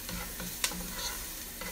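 Chopped tomato dropping into sizzling chili con carne, a continuous close frying hiss with one sharp clatter near the start and faint stirring touches after, quiet overall and without speech.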